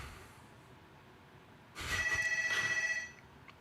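A hotel room telephone gives a single bright, warbling electronic ring lasting about a second, rising out of a quiet room and then stopping.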